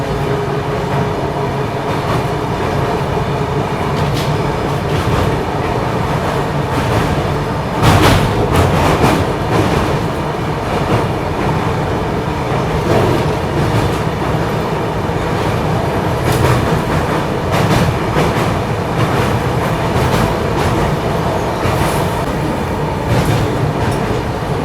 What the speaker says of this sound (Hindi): अभी अपनी ट्रेन क्रॉस करने जा रही है यहाँ पर तापी रिवर सूरत स्टेशन के डिपार्चर के बाद ही